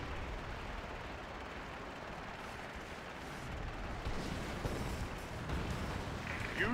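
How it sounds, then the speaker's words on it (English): Torpedo rockets striking ships in World of Warcraft give off a steady, dense roar of distant explosions and impact rumble that swells slightly toward the end, with no voices. "Use your torpedo rockets on those ships."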